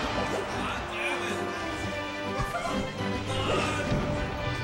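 A forward smash lands in Super Smash Bros. Melee during a tournament losers final, a sharp hit that cuts briefly through a dense bed of game sounds and crowd noise.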